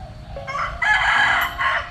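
A rooster crows once at close range on a fighting cock farm, a loud two-second call over faint background sound.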